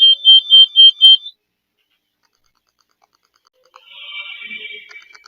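A detector alarm on a basement wall beeps in five quick, loud, shrill pulses, then cuts out. After a pause, fainter scratchy, chirping noise follows.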